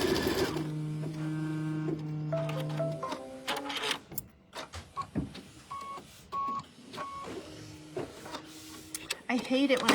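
Sewing machine stitching a quilt trim line in short bursts of rapid mechanical whirring, with pauses and brief clicks between runs and a person talking softly nearby.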